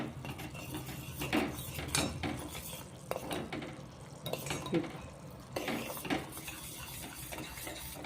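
A spoon or spatula scrapes and clinks against a pan as sugar syrup is stirred over low gas for Gudi Padwa gathi sweets, in repeated irregular strokes close up, with faint background noise and no speech.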